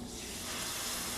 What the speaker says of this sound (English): So I'm just going to strain, and you'll hear a sizzle.